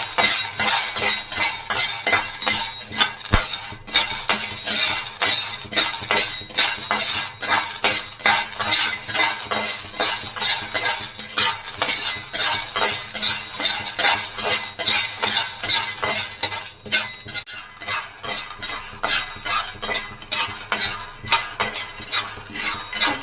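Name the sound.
peanuts being stirred and roasted in a pan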